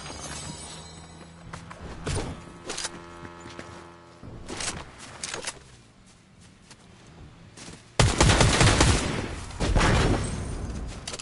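Fortnite gunfire crackles in irregular bursts of sharp shots, some distant and some close, building to a loud dense volley of rapid fire near the end.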